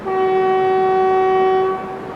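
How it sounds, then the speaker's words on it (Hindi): The Ajmer–New Delhi Shatabdi Express (12016) sounds its horn while departing Kishangarh railway station, one loud, steady, close blast held for nearly two seconds before cutting off. "फिलहाल यहाँ हमारी ट्रेन 1 मिनट रुकी है और हम डिपार्ट कर रहे हैं किशनगढ़ रेलवे स्टेशन से।"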